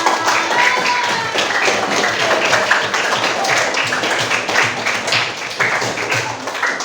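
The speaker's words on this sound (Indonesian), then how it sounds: "Boleh tepuk tangan buat kita semua." A classroom of students claps hands together in a school setting: steady, dense, fairly loud clapping that carries on evenly throughout, close to the listener, with a bit of background murmur.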